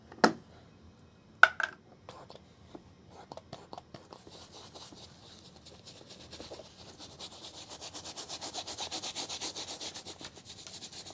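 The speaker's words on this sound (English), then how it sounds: "We're gonna use this tool, this cuticle pusher." A cuticle pusher scrapes a bowling shoe outsole: a few sharp knocks at first, then close scratchy scraping that grows steadier and more rhythmic, with strokes getting louder toward the end.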